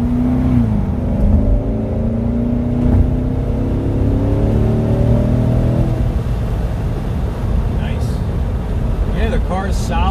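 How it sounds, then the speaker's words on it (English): A 2015 Corvette C7 Stingray engine revs up strongly in third gear, its pitch climbing steadily as it accelerates, loud and close, with wind and road roar behind it. "Do a little third gear roll on."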